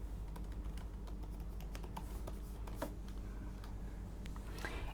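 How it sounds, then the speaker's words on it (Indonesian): Keys clatter on a computer keyboard in quick, irregular bursts of close, light clicks over a low steady hum, with no voices. "Ini kita nulis biasa yang ngetik ya."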